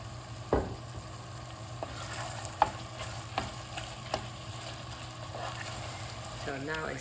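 Meat sizzles in a pan with ginger, garlic and cooking wine for dan dan noodles. A continuous fry hiss is punctuated by several close spatula knocks and scrapes.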